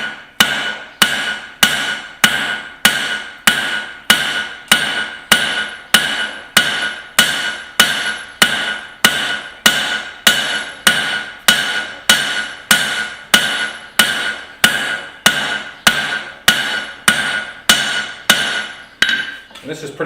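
A hammer forges a hot steel taper for a tomahawk, striking steadily about one and a half blows per second, each blow a loud, close, ringing clang. The rhythm is even and carries on through the whole stretch with no talking.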